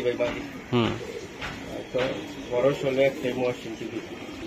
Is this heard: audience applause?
no